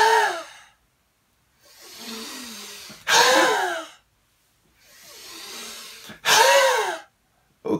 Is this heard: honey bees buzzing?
no